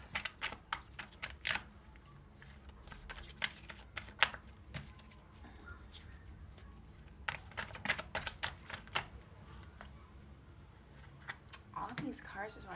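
Tarot cards shuffled by hand in a series of quick, crisp riffling and snapping bursts at close range, with short pauses between, ending in a louder flurry.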